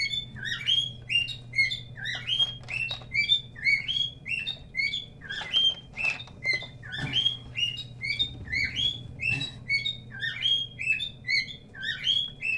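Small bird chirping and tweeting in quick repeated bursts throughout, close and clear, over a steady low hum.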